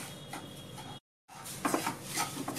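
A spoon scrapes and taps as dry semolina is stirred while roasting in a pan, soft repeated scratchy strokes close by, broken by a short cut of silence.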